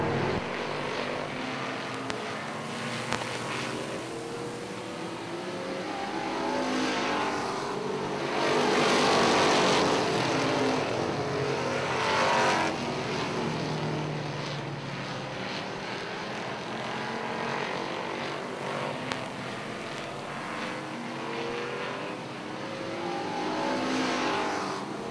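Super stock race cars roar around a short oval track, engines droning and swelling as the pack passes near and fades, with steady continuous engine noise and no talk.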